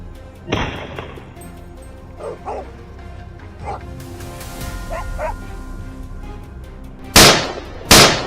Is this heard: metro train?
no